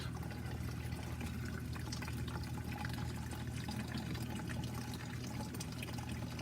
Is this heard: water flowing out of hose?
yes